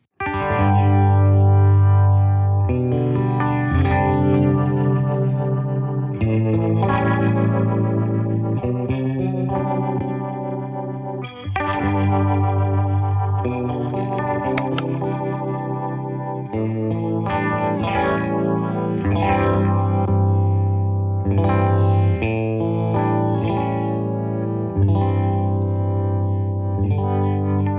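An electric guitar runs through a Fender rotary speaker effects pedal, swirling sustained chords and notes that switch between slow and fast rotation speeds, loud and steady with no talking.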